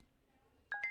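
Two short, bright notification beeps from LinkedIn alerts sound close together near the end, clear and fairly loud after a stretch of quiet room tone.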